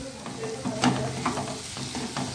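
Agri masala sautéed with potatoes in a pan, a close, steady sizzle with a few scraping stirs of a spoon, and no one talking.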